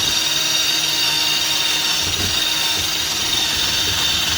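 A power tool polishes an aluminum cylinder head with a steady, loud whirring drone that holds even throughout, with no voices.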